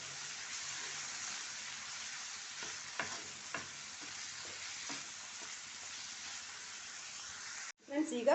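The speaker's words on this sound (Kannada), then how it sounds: "ಒಂದು ಅರ್ಧ ಇಂಚು ಶುಂಠಿ, ಎಲ್ಲ ಚೆನ್ನಾಗಿ ಫ್ರೈ ಆಗಬೇಕು" Ginger and other ingredients frying in a pan for a mushroom gravy, a steady close sizzle with a few soft stirring knocks, ending in a brief louder clatter.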